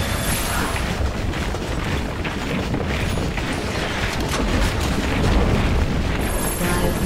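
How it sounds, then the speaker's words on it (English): A tower being destroyed during a Dota 2 match, heard as a loud, continuous rumble of booming blasts and crumbling impacts that swells toward the end amid battle noise. "Dire's middle tower has fallen"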